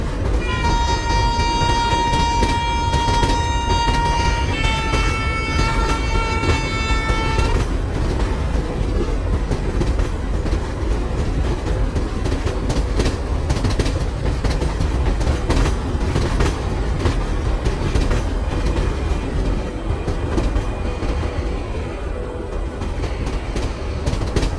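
The Nizamuddin Rajdhani Express runs loudly on the rails near Chennai, a steady rumbling roar with rhythmic clatter throughout, and a sustained horn blast sounding over the first several seconds.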